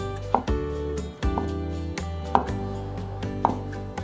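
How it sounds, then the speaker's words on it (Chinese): A knife chops thick shiitake mushrooms into strips on a cutting board, a series of sharp, close knocks in an uneven rhythm with a faint background hum and no talking. "所以再给它切成条状"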